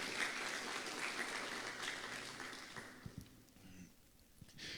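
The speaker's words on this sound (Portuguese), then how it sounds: "Pode dar uma salva de palmas a Jesus?" Church congregation applauding after a prayer, a steady wash of clapping that thins out and fades toward the end, heard at some distance in a reverberant hall.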